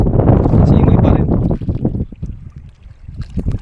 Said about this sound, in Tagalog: Ngayon po simoy-simoy ang hangin simoy pa rin.